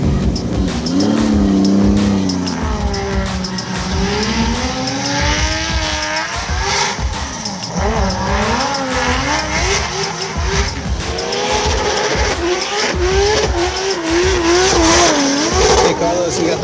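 An FD race car drives hard on a track during a pre-season test, its engine revving and rising and falling in pitch while the tires squeal repeatedly, loud and close, with some voices underneath.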